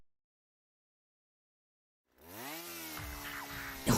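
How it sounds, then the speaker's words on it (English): In the video game Your Turn To Die, a drill bores through a coffin after silence, starting abruptly with a rising mechanical whine that settles into a loud, grinding buzz and ends in a harsh burst. "A drill went through the coffin!"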